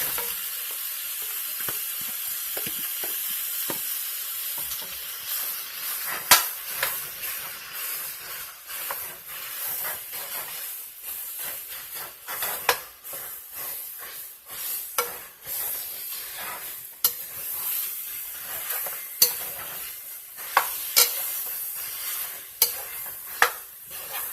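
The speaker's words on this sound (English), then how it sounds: "now that the onions have cooked down a little, we're going to add in the ground beef." Ground beef sizzling in a pan with softened onions for chili, a steady close frying hiss broken by scraping stirs and occasional sharp ticks from the utensil, no voices.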